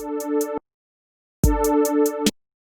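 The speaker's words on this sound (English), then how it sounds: "And the root and the fifth together would just be a power chord. It would sound like this." A power chord of root and fifth played in Ableton Live sounds twice: a short clean hit, a pause, then a longer sustained strike that ends sharply. No talking or other sound.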